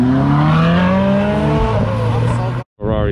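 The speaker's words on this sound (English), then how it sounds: "Ferrari, another one." A Ferrari passes close at a street car meet, its engine loud with rising and falling pitch as it accelerates by, followed by a brief cut and more engine noise.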